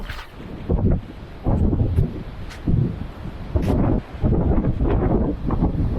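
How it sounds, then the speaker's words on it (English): Strong wind buffets the microphone during a walk toward a beach in Portugal, loud low rumbling gusts that come and go in irregular surges with brief lulls between them. "the wind's blowing"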